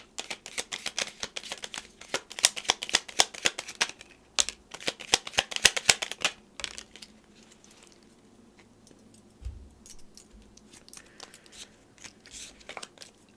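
Message cards for a card reading are shuffled close by, giving a quick crisp run of riffling flutters and taps for several seconds, then a few sparse faint card sounds in a quiet room.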